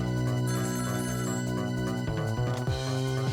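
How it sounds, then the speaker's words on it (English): A telephone in the video game Ghost Trick rings with a bright electronic warble that repeats in quick pulses, moderately loud under a sustained musical backdrop that shifts partway through. "Every time that phone rings, it's bad news."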